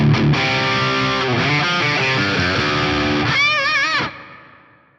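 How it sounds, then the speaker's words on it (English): Electric guitar notes and chords through a Fractal FM3's London Plate reverb, with a lush, shimmering plate reverb tail, ending in a bright vibrato bend that rings out and decays. "let's select, say, the London Plate reverb"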